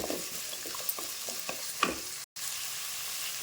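Onion, garlic and cumin sautéing in a pan, a soft steady sizzle with a run of faint rhythmic stirring taps and one sharper clink, briefly dropping out for a moment.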